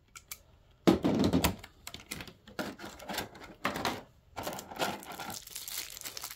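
A dull blade saws and scrapes through packing tape on a parcel, giving a run of crackling, tearing rasps in short uneven strokes, close and fairly quiet.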